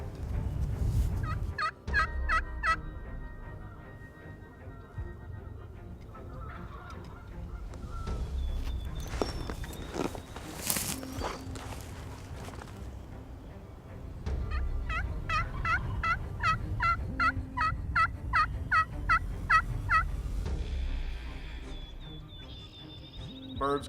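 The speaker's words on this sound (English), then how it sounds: "He's still gobbling his whole head off" A wild turkey gobbles repeatedly during a spring hunt, loud rattling bursts in several bouts over steady outdoor ambience, with soft voices murmuring between calls.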